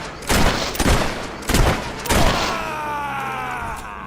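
Gunfire from a woman shooter in the video game Fable III: four loud, rapid shots in quick succession, each a booming crack, followed by a fading ringing tail; no talking.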